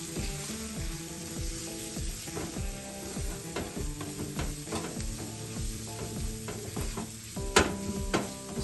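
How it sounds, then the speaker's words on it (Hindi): Prawn masala frying in a pan, a continuous loud sizzle with regular scraping stirs of a spatula at a brisk rhythm, close up with no voices. "अच्छी तरह से इसको फ्राई कर लीजिए।"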